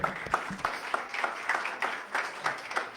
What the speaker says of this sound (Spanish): Un fuerte aplauso para él, por favor, adelante, Eduardo.